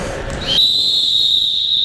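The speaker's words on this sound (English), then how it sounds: "So everybody, I'm gonna blow your whistle" A single sharp, shrill referee's whistle blast cuts in and holds steady for over a second at basketball officiating mechanics training, loud and close, after a brief rustle.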